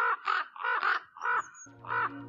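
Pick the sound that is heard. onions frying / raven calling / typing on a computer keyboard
raven calling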